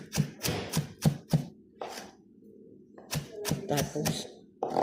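A whole head of garlic pounded in a mortar with a pestle: sharp, close thuds in quick bursts, pausing briefly before another run of strikes.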